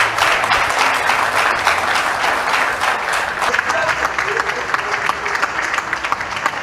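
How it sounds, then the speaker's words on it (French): Sustained audience applause, dense and steady clapping from a large crowd throughout, fairly loud and close. "applaudissements de l'assistance."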